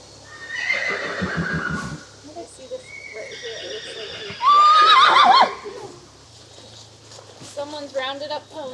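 Horses in a pasture at a rescue shelter whinny loudly several times, with one sharp, high neigh in the middle. Soft hoof clip-clops and a few snorts fall between the calls.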